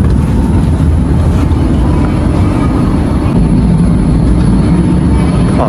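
A fighter jet passing over an airport in Hokkaido, a loud, continuous low roar that fills the whole clip without letting up.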